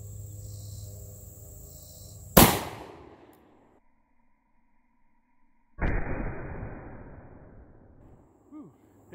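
A .454 Casull magnum handgun is fired at a bulletproof vest, one sharp, very loud crack that rings out and decays. A second shorter burst of noise follows a few seconds later.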